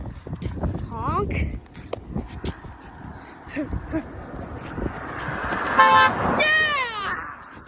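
A car horn honks in a short burst near the end, loud and close, amid street noise, footsteps and people talking excitedly.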